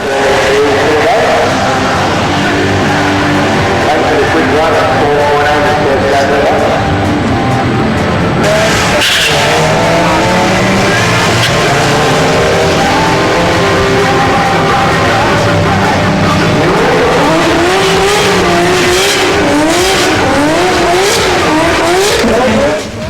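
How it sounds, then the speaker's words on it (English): A Toyota JZX100 Chaser at a drag racing event, its engine loud and continuous with rising and falling revs and some tire noise, close by throughout with crowd and track ambience behind. "This is the JZX 100 Chaser, which have only just got RAWS compliance for Australia."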